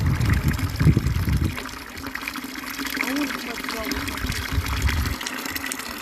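Mountain spring water trickles and gushes steadily close by in a forest, with someone talking over it at first.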